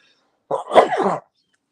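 A single, close, sharp sneeze, a brief explosive burst in otherwise quiet surroundings.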